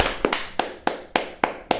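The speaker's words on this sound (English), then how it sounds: "Ben, why are you clapping?" Sharp claps in a studio, about seven spaced hits in an uneven rhythm, close and fairly loud with no talk.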